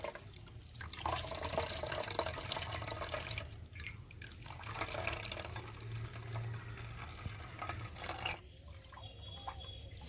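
Grated raw potato is squeezed by hand, and water trickles and drips steadily nearby in soft, wet, uneven pulses across the whole stretch.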